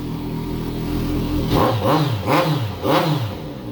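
A 2012 Kawasaki Concours 1400 sport-touring motorcycle engine revs close by, rising in three sharp throttle blips over a steady idle rumble.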